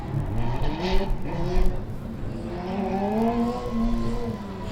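A baby blue UAS Formula Student race car, number 96, drives a Formula Student Germany 2012 autocross lap: its engine revs rise and fall through the gears, loud and fairly close, with faint tire noise and no clear talking.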